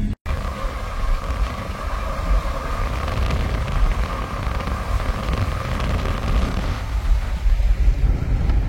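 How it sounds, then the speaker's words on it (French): Wind rushes steadily against a camper van microphone on arrival in the Tunisian desert near Tozeur, a loud, continuous buffeting roar with a low rumble beneath. "Il y a un petit peu de vent."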